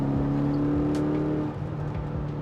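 A 6-speed manual Mercedes E55 AMG wagon with its naturally aspirated engine revs through the gears, a loud engine drone rising, then easing off for a gear change and building again.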